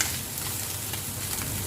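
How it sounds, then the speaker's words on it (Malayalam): Fish frying in a pan, a dense, continuous sizzle and crackle of hot oil up close, steady throughout without voices. "ഇനി നമുക്ക് മറിച്ചിട്ട് കൊടുത്ത് നോക്കാം"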